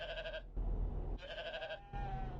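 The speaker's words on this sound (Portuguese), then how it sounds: "Tinha essa animação dessa cabra aqui." A goat bleats in the How to Train Your Dragon video game, three separate wavering bleats with game ambience rumbling in the gaps between them.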